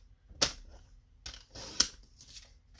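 Two sharp paper-cutting snips land about a second and a half apart, each a crisp broadband crunch with a softer scraping tail, close and fairly quiet in a still room during a Christmas craft project.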